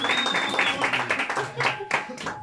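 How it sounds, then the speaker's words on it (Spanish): Guests at a birthday celebration with a youth mariachi band applaud a dancing couple, a short burst of clapping mixed with cheers and chatter, with a sustained instrument tone in the background. "¡Ese aplauso para la pareja!"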